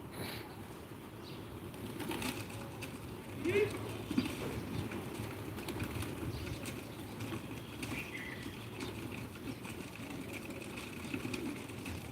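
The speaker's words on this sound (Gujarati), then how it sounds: "તો કબૂતર સણવા આવી ગયા" Pigeons gather to peck at scattered grain outdoors, heard as a steady low murmur of cooing with occasional wing flutters and soft pecking, fairly close, with voices talking in the background.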